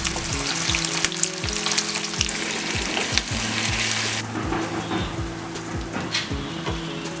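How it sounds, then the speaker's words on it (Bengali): Onion, garlic paste and sugar sizzle loudly in hot oil, a dense crackling hiss with repeated low clunks of stirring throughout, fading slightly partway through. "গরম তেল হলে তাতে পেঁয়াজ, রসুন বাটা ও পরিমাণ মতন চিনি দিয়ে লালচে করে প্রথমে ভেজে নিয়েছি।"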